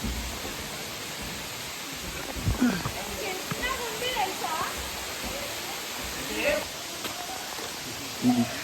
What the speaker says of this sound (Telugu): ఇది మెయిన్ వాటర్ ఫాల్స్, అంటే బ్లూ కలర్ వాటర్ ఫాల్స్